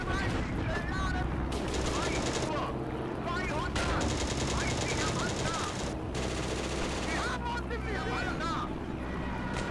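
Machine gun fire from a Pz.38 light tank in the Steel Fury video game: continuous loud, rapid bursts with brief gaps, over a rumbling engine and in-game radio voices.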